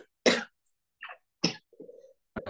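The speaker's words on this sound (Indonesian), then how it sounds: "Batuk." Several sharp coughs in a quiet room, heard alone in short bursts with pauses between them: a loud cough, a smaller one, another loud cough, a lower throaty sound, and a final double cough.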